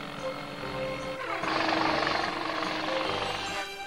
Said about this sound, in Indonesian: Jadi ini helikopter radio kontrol, hebat kan?